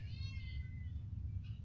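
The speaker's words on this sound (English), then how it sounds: "That is my cat at the window." A cat meows at a window, a faint, thin, wavering cry near the start and another short one near the end, over a low, steady background hum.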